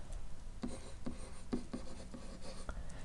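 Marker or chalk writing a trig equation on a classroom board gives a series of close, scratchy strokes with short taps between them, heard on its own with no talk.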